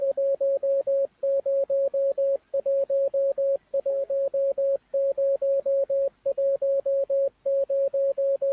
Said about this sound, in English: Did you hear that? I said that's not my Morse code.